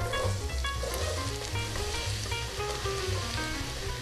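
Onions sizzle loudly in oil in a sausage pan, a dense, steady frying crackle heard up close for the whole stretch with no voices.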